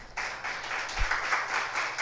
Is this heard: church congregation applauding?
yes